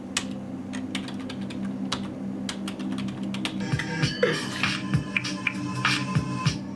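Typing on a computer keyboard: close, crisp key clicks, sparse at first and then in denser bursts, over a low steady background hum.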